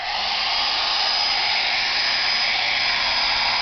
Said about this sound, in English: The talking right foot blow drying itself with a blow dryer.